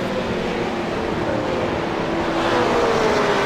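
GT3 Cup race cars, including a McLaren, driving in a French championship round, a loud steady engine roar with a rising and falling whine as cars pass close by.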